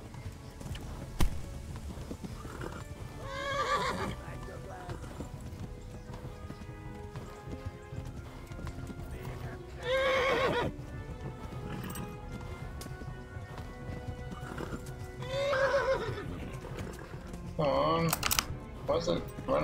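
Horse hooves clopping and occasional whinnies as horses fight in Kingdom Come: Deliverance, amid a busy game soundscape with music and shouting voices throughout.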